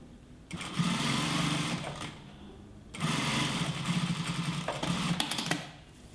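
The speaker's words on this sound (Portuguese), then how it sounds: "Já venho aqui, pego o outro, posiciono e continuo na minha costurinha aqui." A sewing machine stitches a multipurpose wallet in two steady motorized runs of a few seconds each, separated by a short pause, close and clear with no talking.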